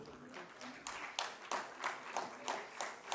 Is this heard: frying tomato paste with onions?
no